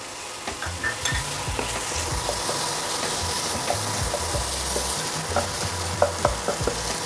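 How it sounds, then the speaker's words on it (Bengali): Mashed new potatoes and green peas sautéed together in a pan, a close steady sizzle broken by repeated knocks and scrapes of the spatula, with no voices. "আলু মটরশুঁটি আমি একসঙ্গে কষিয়ে নেব।"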